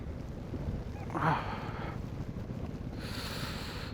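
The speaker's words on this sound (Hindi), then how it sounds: "बहुत तेज़ हवा चल रही है।" Steady icy wind rushes and buffets across the whole stretch on a high mountain pass on the Padum to Leh route, with a brief louder gust near the start and a hissy rise toward the end.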